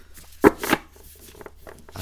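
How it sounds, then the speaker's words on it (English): An oracle card deck, Medieval Oracle of the Beasts, is shuffled by hand with two sharp riffling bursts close up, followed by softer scattered card rustles. "give it another shuffle."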